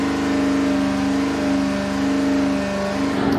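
An engine holds a steady 3,000 RPM on a dyno during a connecting-rod comparison test, producing a loud, constant droning hum with a firm, unchanging pitch throughout.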